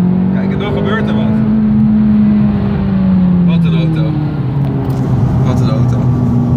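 McLaren engine revving under acceleration, a loud droning tone that climbs, eases back and rises again across the stretch while someone talks over it.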